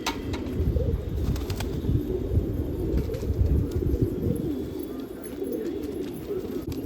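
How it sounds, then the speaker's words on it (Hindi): Fighting pigeons on a rooftop coo in low, soft, continuous murmurs, with a steady hum of many birds close by. "भाई सारे के सारे लड़ाकू कबूतर है, सारे के सारे दौड़ के मतलब के कबूतर है भाई"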